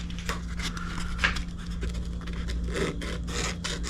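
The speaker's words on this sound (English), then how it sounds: "take your 400 grit sandpaper" 400 grit sandpaper rubs along the edge of a mandolin fretboard in light, soft strokes, a faint, dry scratching heard alone over a low steady hum.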